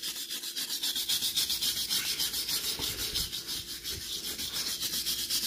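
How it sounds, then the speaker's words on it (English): A weld on a steel axle is cleaned up with steady, rhythmic rubbing and abrasive scraping strokes, repeated evenly and close by throughout. "So I'm going to grab... clean up the weld."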